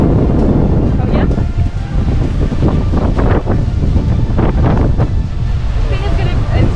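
Strong wind from Hurricane Zeta on the Riviera Maya coast near Cancun buffets the microphone in loud, continuous gusts, with surf rumbling beneath and people talking nearby.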